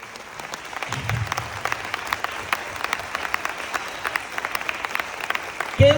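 Sparse, uneven clapping from an audience at a motivational direct-selling seminar, with individual claps audible rather than a dense roar, steady for several seconds under faint room noise.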